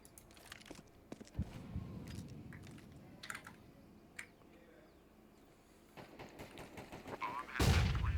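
Gunfire from a shooter video game, with sharp shot transients scattered through the clip over low rumbling game ambience and a loud burst near the end, with voices faintly underneath.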